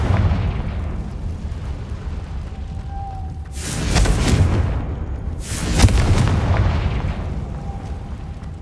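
Confringo fire spell blasts in the Hogwarts Legacy game, two loud booming explosions a couple of seconds apart over a low rumbling ambient background.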